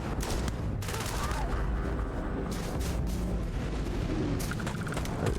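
Scoped rifle gunfire in Starfield rings out as repeated sharp shots over a dense, noisy game backdrop, with some speech mixed in.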